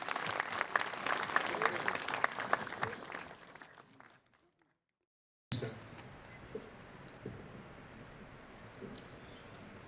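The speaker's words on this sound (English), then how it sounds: "Let's all give a big round of applause for all these freshers." An audience at a student freshers' meet applauds with dense, crackling clapping that fades out, then after a short gap a fainter room with scattered claps and murmur picks up.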